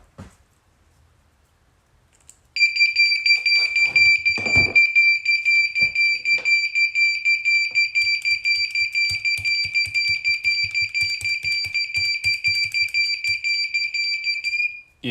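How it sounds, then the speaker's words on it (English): A loud, steady electronic alarm tone from faulty electronics sounds continuously and repeatedly on power-up, high-pitched and piercing, with some rattling and handling noise underneath. "you power it up and it just keeps beeping and beeping."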